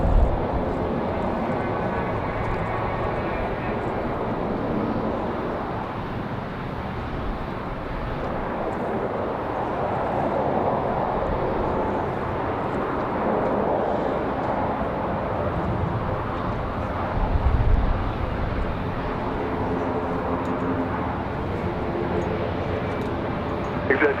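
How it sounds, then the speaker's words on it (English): An ATR turboprop airliner arriving at Raleigh-Durham airport produces a steady, loud engine drone throughout, with air traffic control radio voices intermittently heard over it. "Nice arrival for the ATR."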